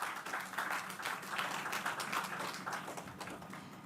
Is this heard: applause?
yes